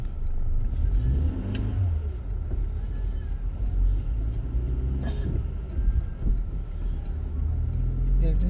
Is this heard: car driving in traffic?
yes